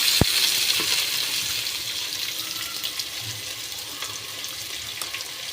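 Chopped onion hitting hot oil with whole spices in a home kitchen pulao preparation, giving a steady broad sizzle and crackle with a sharp tap at the start, fairly close and without talk.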